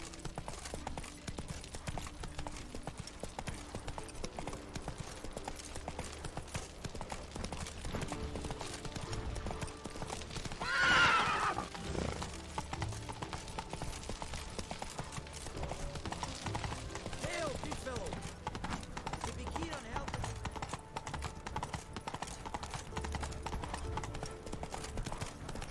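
Hooves of the horse Roach in The Witcher 3 beat in a steady rapid rhythm as the horse gallops on and on, with game ambience underneath and a brief louder whoosh midway.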